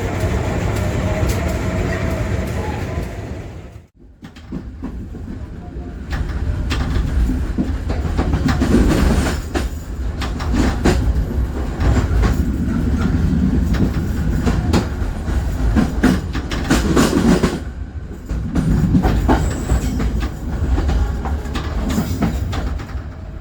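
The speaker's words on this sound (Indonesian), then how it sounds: "Nah, ini kereta api Tamina." A commuter passenger train rumbles past close by, steady rolling roar with rhythmic clattering of wheels over rail joints, briefly dipping before the cars keep thundering through.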